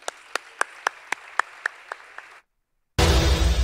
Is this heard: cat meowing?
no